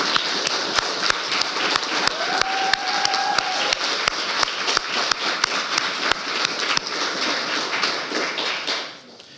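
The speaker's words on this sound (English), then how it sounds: "I just want to give a round of applause to Regan and to the other youth workers" Applause for youth workers at a youth council and youth parliament results event, sustained clapping from a modest crowd with a few sharp isolated claps standing out, fading at the end.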